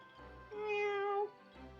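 A cat in The Great Ace Attorney Chronicles gives a single clear, drawn-out meow, close and fairly quiet, with brief soft murmurs on either side.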